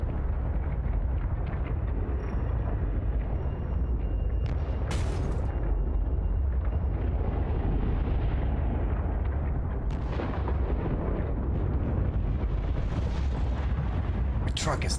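Explosions rumble and crack through the video game Subnautica: Below Zero in a dense, loud, continuous barrage, with several sharp bursts standing out over the rolling boom.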